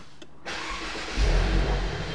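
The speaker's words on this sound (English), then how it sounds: "I'll start it up." A 2018 Mercedes C200 Premium Plus starts up from inside the cabin: a short quiet pause, the starter catches, and the engine settles into a smooth low idle with a slight swell in rumble.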